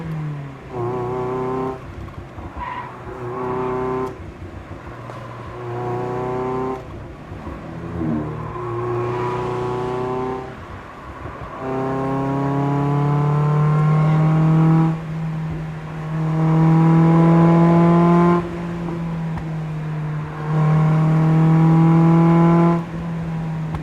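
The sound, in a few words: Mazda Miata accelerating on a winding mountain road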